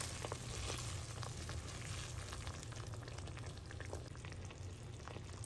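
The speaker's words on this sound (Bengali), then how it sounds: "যতক্ষণ না পর্যন্ত ঝোলটা ফুটছে ততক্ষণ পর্যন্ত এটা রান্না হতে দেব।" Raw banana curry gravy bubbles and simmers in a pan, a faint, steady low sizzle with soft popping that stays even throughout, with no voices.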